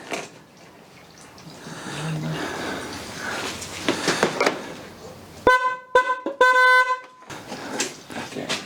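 Car horn tested on a rusty-bonneted car during servicing, sounding in several short and longer honks after a stretch of talk and workshop noise.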